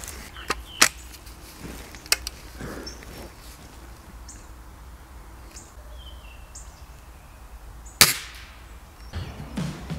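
An air rifle fires a few sharp, isolated shots during sighting in outdoors, each a brief crack spread several seconds apart over quiet background ambience, with faint birds audible.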